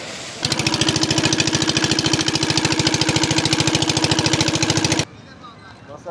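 A small boat's motor chugging loudly and steadily with a rapid rhythmic engine pulse while arriving at Niladri Lake among hills, close up, cutting off abruptly near the end.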